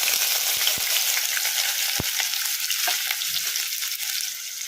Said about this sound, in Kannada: ಈಗ ಸಾಸಿವೆ ಜೀರಿಗೆ ಚಟಪಟ ಅಂದಿದಾವಲ್ಲ ಈಗ ಇದಕ್ಕೆ ನಾವು ಕಟ್ ಮಾಡಿ ಇಟ್ಕೊಂಡಿದ್ವಲ್ಲ ಉಳ್ಳಾಗಡ್ಡಿ ಹಸಿಮೆಣ್ಸಿನ್ಕಾಯಿ ಇದನ್ನು ಹಾಕೋಣ